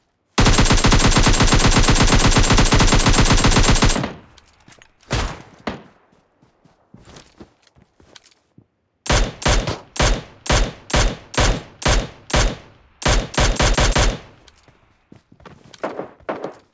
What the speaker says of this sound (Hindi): तो फायर के साउंड आने स्टार्ट हो चुके थे।